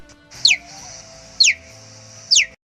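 A cheetah gives three short, high chirps spaced about a second apart, sharp and bird-like, over a faint low background hum.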